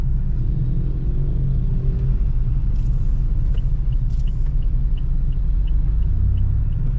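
Traffic on a busy street in Pampanga, Philippines, heard as a constant loud low rumble of passing vehicles and idling engines, with faint higher squeaks and chirps breaking through around the middle.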